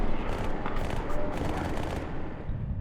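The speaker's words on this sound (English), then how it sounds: "where's this gunfire, guys?" Rapid gunfire in the Halo 2 video game, a dense sustained volley of shots with a steady, continuous rattle filling the whole stretch.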